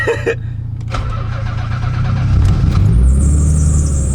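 A car engine with a carbon fiber trunk cranks briefly and then catches, settling into a loud, close, steady idle with a rising whine near the end.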